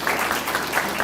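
An audience at a school event gives a brief burst of dense, steady applause.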